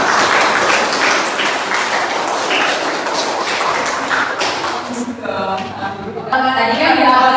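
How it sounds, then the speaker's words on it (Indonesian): Classroom students clap for a group presentation, a dense wash of hand claps through most of the stretch before it thins out and voices begin talking near the end. "untuk presentasinya bisa dikasih tepuk tangan."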